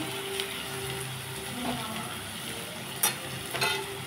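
Chopped ginger sizzles in a frying pan, a soft continuous hiss with faint crackles and a couple of brief clinks, heard close and alone.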